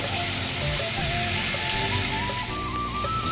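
Pointed gourd frying in oil, a loud steady sizzle and hiss that carries on without pause, close to the pan.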